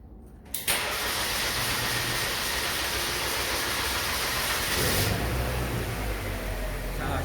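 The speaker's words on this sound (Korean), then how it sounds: "시동을 한번 걸어 보도록 하겠습니다" A car engine cranks and catches, then settles into a steady idle, close and continuous with a slight rise in roar partway through.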